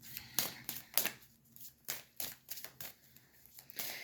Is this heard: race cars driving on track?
no